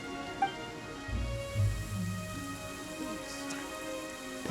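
Steady rain hisses with a rushing wind from a magical storm barrier in Genshin Impact, with a few low rumbling swells beneath sustained game music tones.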